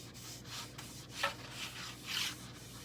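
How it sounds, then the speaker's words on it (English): A wipe soaked in wood stain is rubbed onto a wooden piece in soft, repeated back-and-forth strokes, quiet and close, with no talking. "just dip your wipe down in the stain, get some on there, and just rub it onto your wood"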